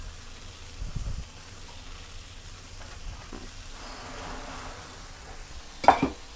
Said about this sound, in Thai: ใส่ถั่วงอกนะครับผัดเลยครับ